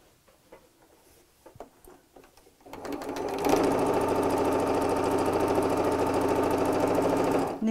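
After some quiet handling clicks, a sewing machine starts and stitches gingham fabric for a tea cosy in one long, steady, close whirring run before stopping.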